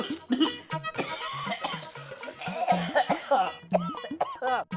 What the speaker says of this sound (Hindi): इतनी ज्यादा खांसी कैसे हो गई?